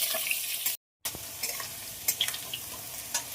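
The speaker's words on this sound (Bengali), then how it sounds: "জিরে দিয়ে আলুগুলো দিয়ে দেবো। আলুগুলো ভাজার জন্য খুব ভালোভাবে নেড়ে দেবো।" Potatoes and cumin seeds frying in hot oil in a pan, a soft continuous sizzle broken by scattered scraping stirs, with a brief gap near the start.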